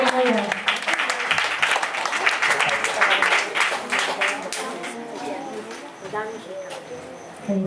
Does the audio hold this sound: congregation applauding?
yes